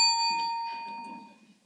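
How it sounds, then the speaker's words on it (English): A single bright ding of a principal's bell at a city council meeting, signalling one minute left to speak; it strikes once, clear and close, then rings out and fades over about a second and a half. "That's the principal's bell, means you've got 1 minute to summarize."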